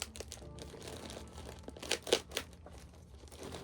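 Crinkly plastic rustles and tears close by, with a few louder crunching bursts near the middle as a soft mail bag is pulled open.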